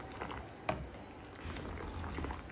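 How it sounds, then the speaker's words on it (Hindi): Tea simmering in a pot on a home kitchen stove: a faint, continuous bubbling patter with a few small pops and ticks, soft and steady, with no speech. "ये चाय बन रही है।"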